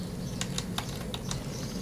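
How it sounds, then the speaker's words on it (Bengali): Quick light keystrokes typing a word into a website search box on a computer keyboard, a handful of soft clicks in a loose rhythm over a steady low background hum. "এখন আমি ইলাস্ট্রেটর লিখে সার্চ করলাম"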